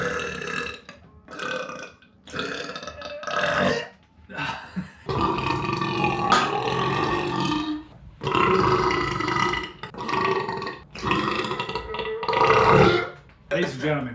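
Long, loud burps after gulping cola in a burping contest, several drawn-out belches in a row with brief pauses between them.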